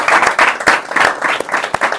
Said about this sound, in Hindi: जोरदार ताली से जरा स्वागत करो इसका